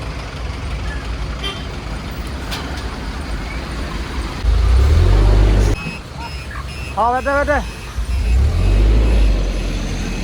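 Traffic on a highway blocked after a truck's axle and tyres broke, with vehicles turning back, heard as a steady rumble of engines and passing traffic, a horn toot and a short beeping, while people talk briefly.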